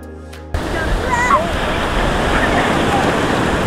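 Ocean surf at a surfing spot in Baler, Aurora, Philippines, a steady loud broadband roar of breaking waves with wind buffeting the microphone, starting abruptly and holding without pause.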